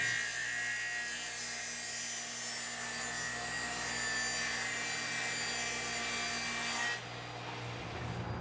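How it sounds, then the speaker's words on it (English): Saw cutting wood verticals for a folding Murphy bed cabinet: a loud, continuous rasping, whining cut that runs for about seven seconds and then stops abruptly, leaving a fainter hum. "I just finished cutting the 2 verticals for the main cabinet"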